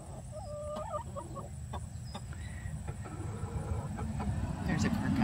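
Chickens cluck and squawk in a backyard flock with hens and new pullets, scattered calls over a steady outdoor background rumble, with a voice faintly nearby.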